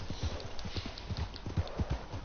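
Horse hooves clip-clop in a steady, moderately paced rhythm in Red Dead Redemption 2, the horse heading down a mountain, fairly close and alone over a soft rustling background.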